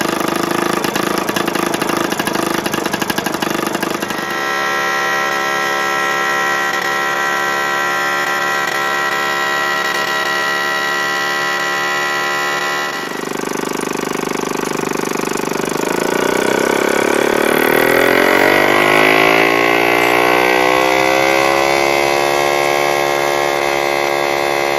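A small engine runs steadily on a test bench mule, a loud droning idle with a pitch shift partway through and a rising rev toward the end, alone without voices.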